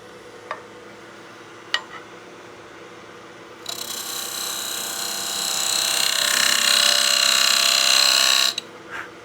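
A skew chisel is held as a box scraper against a spinning snowman oil candle on a wood lathe, giving a steady, fairly loud scraping hiss of about five seconds after a few light taps.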